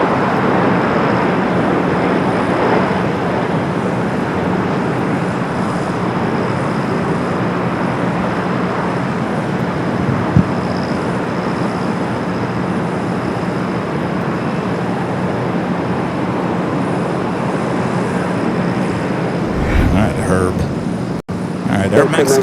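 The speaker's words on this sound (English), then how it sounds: "Air Mexico, the Dreamliner touching down here on the south side." Boeing 787-9 Dreamliner airliner from Mexico City touching down on the south side at LAX, a steady loud broadband jet roar that persists throughout, with a voice talking over it.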